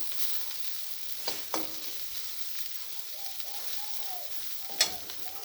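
A single prawn fries in a pan at home, giving a faint, steady hiss broken by a few soft pops and clicks.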